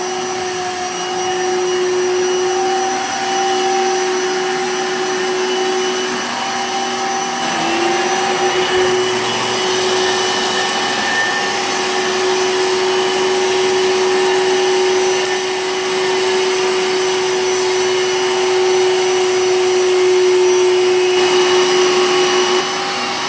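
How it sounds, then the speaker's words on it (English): A Bissell ReadyClean PowerBrush carpet cleaner slowly vacuuming moisture out of carpet, a loud continuous motor whine with steady high tones and a faint shift partway through, alone without speech. "letting the vacuum suck up as much of that moisture as I can."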